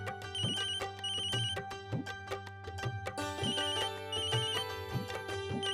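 A phone ringtone plays a repeating electronic melody in steady cycles, moderately loud and alone, in a household scene during a family gathering.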